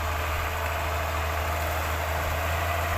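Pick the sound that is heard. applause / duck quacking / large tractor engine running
large tractor engine running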